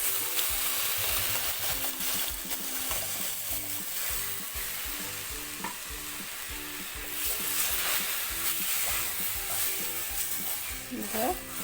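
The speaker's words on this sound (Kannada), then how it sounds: "ಇದಕ್ಕೆ ವಿನಿಗರ್ ಹಾಕ್ತಾ ಇದ್ದೀನಿ" Vinegar poured into hot jackfruit pickle masala in a pan with the gas just turned off, a loud, steady hissing sizzle with stirring clatter running through, swelling briefly toward the end.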